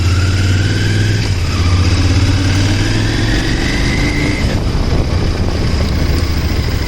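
A motorcycle engine runs close and loud while being ridden at a gentle pace, a continuous hum with gear-shift pitch rises and drops, plus wind rush, and no talking.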